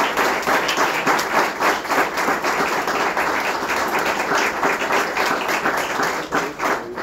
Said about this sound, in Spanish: Un aplauso para el profesor, por favor